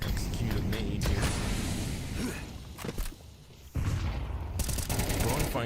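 Grenade blasts and gunfire in a Counter-Strike match during a B-site execute, with dense bursts of shots and explosions close by that briefly thin out before loud firing resumes.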